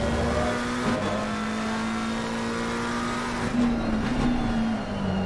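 A race car in Assetto Corsa Competizione drives a 24-hour endurance event at Spa, its engine holding a steady, loud drone with slight pitch shifts as it rises and eases off.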